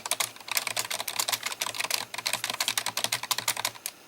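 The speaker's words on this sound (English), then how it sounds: "what are you typing to, like, have a command happen?" Fast, continuous typing on a computer keyboard, dense rapid key clicks close up and fairly loud, with no voices.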